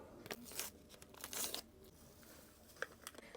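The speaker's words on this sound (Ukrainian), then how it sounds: "Ми висипали один пакет байзику." Soft crinkling of a packet followed by a brief gritty pour of FitLine powder into an empty glass, then a couple of faint taps, quiet and close.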